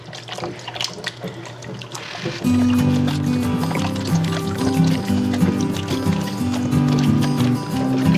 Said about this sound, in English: the first thing we want to do here, of course, is wash these apples